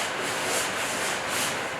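Steady, rhythmic sanding of a boat hard top rasps back and forth in continuous gritty strokes in a boat shop, close and moderately loud, with no voices.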